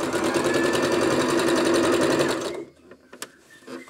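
A sewing machine stitches flat fabric while mending trousers, whirring in a fast, even mechanical rhythm for about two and a half seconds before stopping abruptly, followed by a few faint clicks and handling sounds.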